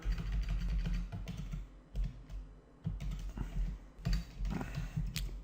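Rapid keystrokes on a computer keyboard patter continuously and close by over a low, steady background hum.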